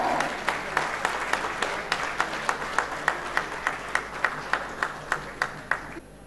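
A talk show audience applauds for a Cameroonian guest, a broad clapping wash punctuated by a regular, rhythmic beat of unison claps about twice a second that continues until it stops abruptly.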